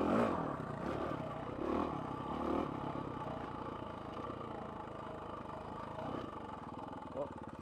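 A dirt bike engine roars and surges while the rider pulls a wheelie on the Hell's Revenge trail in Moab, Utah, a rough close-up motor drone with clattering pulses and a brief spike near the end.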